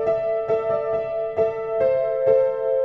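Right-hand piano part of a song, played solo as a simple melody of sustained mid-range notes with soft repeated attacks, close and clear.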